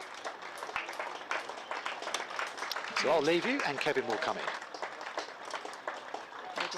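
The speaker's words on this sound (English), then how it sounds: "We'll just take the applause from the crowd around the county ground here" A cricket crowd at a county ground applauds steadily in the distance while someone speaks over it in the foreground.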